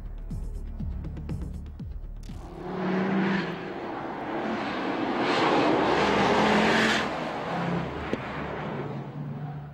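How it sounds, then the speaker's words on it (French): A Ford Focus RS with a five-cylinder turbo engine revs briefly, then roars past loud and close with a rising and fading broadband rush, and no talking. "Son moteur maintenant, un 5 cylindres turbo dont la sonorité n'est que pur plaisir."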